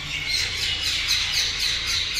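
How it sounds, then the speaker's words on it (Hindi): Birds chirp and squawk continuously in a dense chorus at Neemrana stepwell, bright and busy, with no voices. "पक्षी देखो कितने हैं, पक्षी देखिए चहचहाहट"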